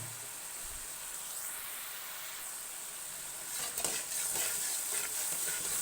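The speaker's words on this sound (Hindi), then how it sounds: "तो ये वाले जो मसाले हैं ये हम उठा के इसमें अपनी कढ़ाई में सारे मसाले शामिल करते हैं।" Whole cumin and red chili spices frying in oil in a kadhai, a continuous soft hiss and sizzle that turns busier with crackles and stirring scrapes toward the end, close up with no talk.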